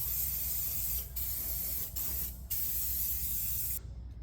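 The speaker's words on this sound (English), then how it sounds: "It's just spray paint, but it makes a huge difference." Spray paint hisses from an aerosol can onto plastic trim pieces of work machines, a steady close hiss broken by three short pauses before it stops near the end.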